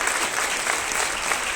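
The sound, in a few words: audience applause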